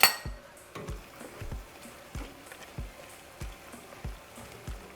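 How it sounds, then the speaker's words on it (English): Meat and minced garlic are stirred in a pan, with a utensil scraping and clinking against the metal in a slow, regular rhythm of roughly two strokes per second, close and moderately loud. "We're just going to mix it. And we're also going to be adding 2 minced garlic cloves."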